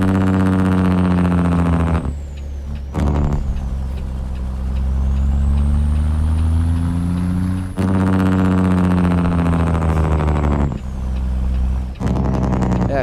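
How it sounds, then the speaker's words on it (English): A Big Cam Cummins engine sound mod on a Peterbilt 389 truck in a trucking game, with a loud, steady diesel drone that rises and falls in pitch and is cut by brief gaps, heard alone and close up. "Engine sound kick, it's Z-Mods, Big Cam Cummins."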